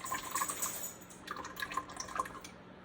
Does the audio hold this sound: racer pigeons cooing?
no